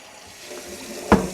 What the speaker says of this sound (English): Run hot water over the bucket.